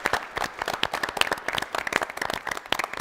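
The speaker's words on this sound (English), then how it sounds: "let's give both teams a big round of applause." Enthusiastic applause from an audience at a team competition, dense, irregular clapping throughout with no voices standing out.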